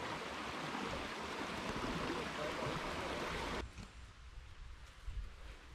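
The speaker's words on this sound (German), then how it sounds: "Hier also der Bach." A campsite stream in the Bavarian Forest rushes steadily and close by, a dense broadband wash that suddenly drops to a softer, quieter flow partway through.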